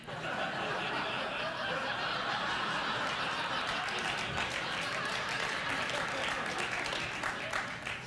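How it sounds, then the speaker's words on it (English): Studio audience at a late-night talk show claps steadily throughout, with some laughter mixed into the sustained applause. "Why would you applaud my pain?"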